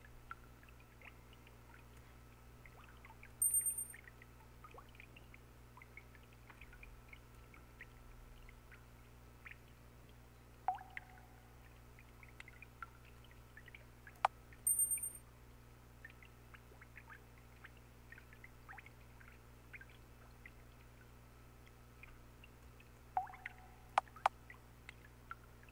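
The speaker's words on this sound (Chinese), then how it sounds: "这水声" Gentle water pours and trickles in a quiet video game scene from 夕餉之華, with a few brief splashing bursts spread over a low steady hum.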